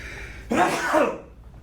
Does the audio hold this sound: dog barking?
no